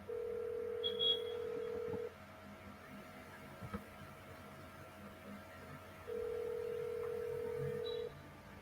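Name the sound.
telephone call being dialed and ringing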